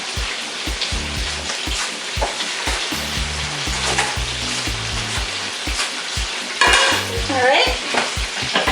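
Shrimp frying loudly in a pan, a busy crackling sizzle with repeated stirring scrapes and clanks, growing briefly more intense near the end, with a short spoken remark.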